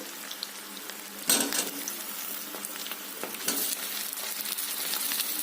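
Pigeon meat frying in hot oil with bay leaves, panch phoron and onion sizzles steadily in a pan, punctuated by a loud stirring scrape and clatter early on and a few lighter stirs later.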